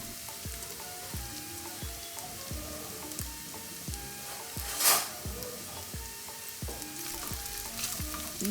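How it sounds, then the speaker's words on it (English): Sliced onions fry in a single layer in oil for birista, sizzling steadily while rhythmic regular thumps from stirring or pressing repeat about every half second, plus one brief louder scrape near the middle, close by with no speech. "Leave the onions undisturbed until they brown at the bottom."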